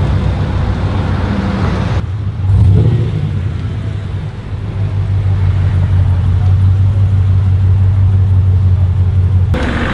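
A straight-piped Holden SV6 Commodore exhaust rumbles loudly up close, a deep steady drone that swells briefly with a rev and then holds a heavy low burble.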